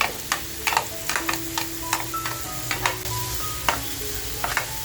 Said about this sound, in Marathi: सोया सॉस घेतलाय, तो सोया सॉस टाकते.